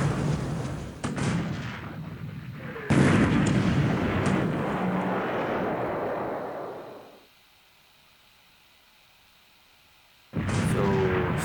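Naval shell hits and explosions against destroyers in the War in the Pacific strategy game, with heavy booming blasts that roll on and decay, a sudden drop to near silence, and then another loud burst.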